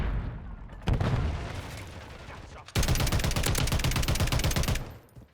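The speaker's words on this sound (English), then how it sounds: "Taking fire." Gunfire in Call of Duty: Modern Warfare III, starting with a loud blast and decaying rumble, then a sustained rapid burst of automatic fire, loud and close.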